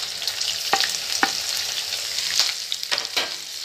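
Onions frying in a pan for chilli paneer, with a steady bright sizzle and several sharp scraping stirs of a utensil against the pan, close and fairly loud, with no talking.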